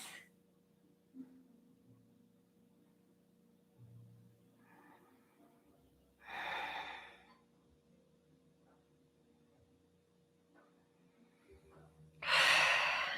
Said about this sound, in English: Big tummy breaths.